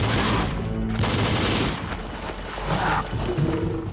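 Dense, loud bursts of gunfire from a 9mm pistol in the video game Jurassic: The Hunted, mixed with roaring creature sounds from the game.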